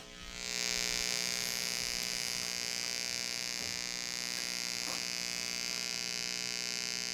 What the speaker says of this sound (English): it definitely gets quieter, but I still hear an audible buzz